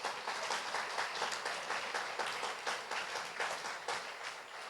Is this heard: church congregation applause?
yes